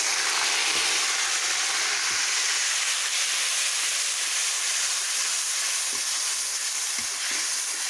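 Ground onion, tomato and cumin paste sizzles in hot oil in a pan, a loud, steady frying hiss lasting the whole time with a few soft knocks beneath it.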